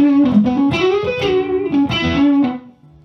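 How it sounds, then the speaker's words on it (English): Electric guitar phrases ring out through a Two Rock amp with a classic reverb setting, several sustained notes with a lingering wash trailing off at the end, played alone without talk. "let's do classic reverb"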